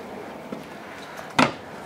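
An RV kitchen drawer in a 2018 Heartland Big Country 3310 QSCK fifth wheel is pulled open with one short, sharp scrape and clunk. Faint ticks come before it in an otherwise quiet room.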